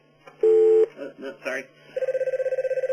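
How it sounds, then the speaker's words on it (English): A telephone in a conference room rings behind a lecture Q&A, one long electronic tone, then a rapid pulsing warble ring after a man's short spoken words. "Sorry about that background phone there in a conference room."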